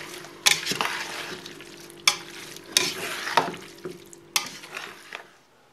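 Tuna fettuccine sauce with pepper stirred in a hot pan, Army catering style, with repeated scraping stir strokes over a steady close sizzle and no talking.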